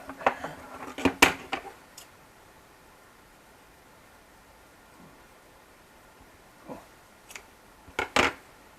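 Close, sharp scissor snips trim material for a homemade smoke machine, coming in a quick cluster of clicks, then a quiet pause, then a few more cuts.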